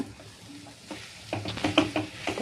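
A spiced masala with turmeric is stirred and sautéed in a pan, with soft sizzling and scraping strokes of a spoon, quiet at first and then busier and louder, with no talking.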